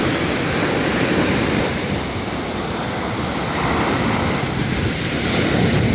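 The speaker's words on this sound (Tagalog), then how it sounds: "ang lalaki ng mga alon" Heavy surf from large ocean waves at Matnog roars continuously and loudly, a dense wash of breaking waves with wind buffeting the microphone.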